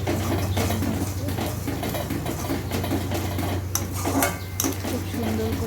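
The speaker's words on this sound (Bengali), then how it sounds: "দেখো আমাদের মশলাটা কষানো হচ্ছে" Spice paste stir-fried in a pan for jhinge aloo posto, repeated scraping and clinks of a spatula against metal over a loud constant hum, with faint sizzling.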